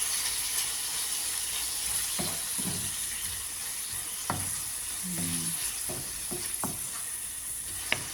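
Tomatoes frying in oil for a bitter gourd (ampalaya) dish, a soft steady sizzle with a few scattered clinks and stirring knocks, no voices.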